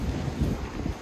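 Wind gusting on the coast at Cala Ratjada, Mallorca, with high waves nearby, a steady low rumbling buffet across the whole short stretch, close and fairly loud with no talk.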